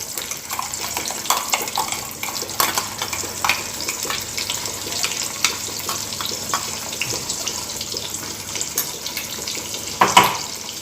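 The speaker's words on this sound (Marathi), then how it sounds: "तेल गरम झालं की त्याच्यात टाकून हे वाटण टाकू" Ground onion and coconut masala paste frying in hot oil for a dhaba-style egg curry, a steady crackling sizzle with splatter pops and occasional stirring, close and fairly loud, no voices.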